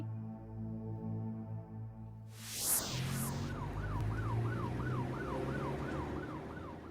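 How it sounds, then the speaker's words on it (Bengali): A cartoon ambulance siren wails in steady rising and falling cycles as the vehicle drives past on a bad road, loud and continuous after a passing whoosh, with an engine hum underneath. "ওই তো অ্যাম্বুলেন্স গেল"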